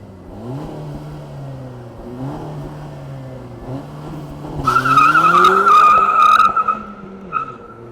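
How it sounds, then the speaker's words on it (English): A 2025 Honda Civic Si engine revs and pulls away, its rising note building from a low idle into a louder, strained surge with a sharp high tire-squeal-like tone near the middle, then easing off; no talking. "let's fire up this Civic Si and see how it moves"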